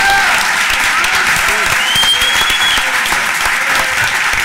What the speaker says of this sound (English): Round of applause again for the speakers,